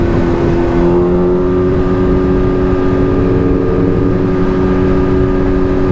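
A Chevrolet Camaro drives close by, a loud steady engine drone with a low humming tone that holds throughout without clear rise or fade.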